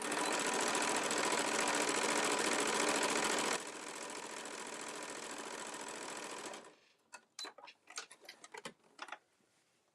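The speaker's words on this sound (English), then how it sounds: "I'm going to back stitch and sew all the way to the end" A sewing machine back stitches and then sews a tote bag seam in one continuous, fairly soft, rapid whir, slowing slightly partway, before it stops and a few light clicks and handling taps follow.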